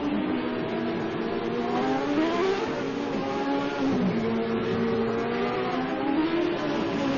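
CART 1998 open-wheel race cars at the Long Beach street circuit in a sim racing game, engines droning and revving steadily and loudly throughout with rising and falling pitch, no talk.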